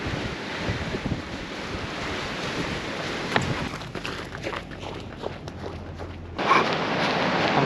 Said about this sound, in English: the wind's at least pushing us in the right direction